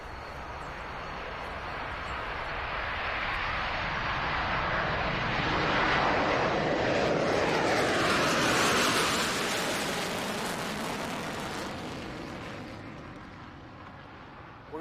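B-1B Lancer bomber jet engines at a British airshow, a broad roaring rush that builds from a distance to a loud peak midway and fades away again as the jet passes, with no talk.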